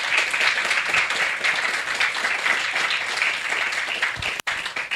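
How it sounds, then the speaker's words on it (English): Audience applause for a conference panel at a pavilion event, a steady dense clapping from a crowd that holds for about five seconds with a brief dip near the end. "give a warm round of applause for our fantastic panelists"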